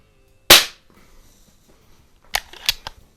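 A .177 break-barrel air rifle, an RWS Diana P5 Magnum or Snowpeak SP500, fires one sharp, loud crack, followed after a quiet pause by a cluster of three or four smaller snapping clicks and knocks nearby.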